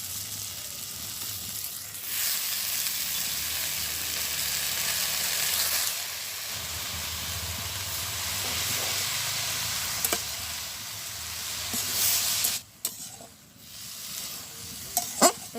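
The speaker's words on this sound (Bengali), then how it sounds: "এর উপরে আমি দিয়ে দিচ্ছি লাউ শাকটা।" Gourd leaves frying in batter give a steady, close sizzle with hissing spatter that runs unbroken under brief stirring clatter near the end.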